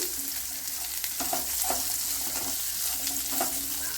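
Ten shallots sizzle and crackle in hot oil in a pan, a steady close frying hiss broken by a few sharp stirring scrapes, with no voices.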